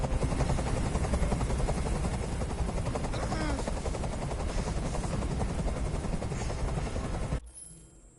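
A helicopter in the video game Detroit Become Human thunders overhead with a dense, loud rotor chop that fills the scene, then cuts off abruptly near the end.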